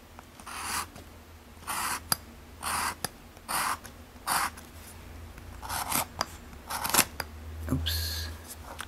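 A precision cutter slices through oil-based paper, making short rasping, scraping strokes in an irregular series, each lasting about half a second, fairly faint and close, with no talking.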